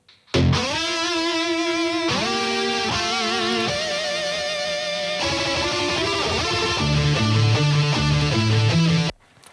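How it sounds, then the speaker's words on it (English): Distorted metal guitar plays a sustained solo line with quarter-note delay and EMT 250 plate reverb. Held, bending notes sound loud and alone, and the repeats and wash stretch the tail. "I just went in and added some quarter delay and some EMT 250 just to open up this like solo-ish little part a little bit"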